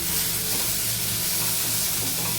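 Onions fry to brown in a pan, giving a dense, even sizzle with a steamy hiss that stays close and constant and has no pauses.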